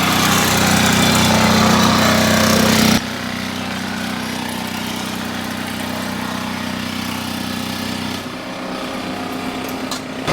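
A loud machine drones steadily while excess material is trimmed off a stamped two-stroke motorcycle exhaust pipe in a factory, its pitch dropping and the noise easing at about three seconds, then shifting again near the end.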